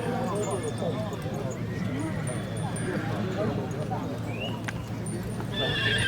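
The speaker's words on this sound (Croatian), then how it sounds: "Također jedan lijep, prekrasan konj" Horses at a regional horse show, distant hooves and crowd murmur with a faint whinny, as a commentator talks over the scene in the open air.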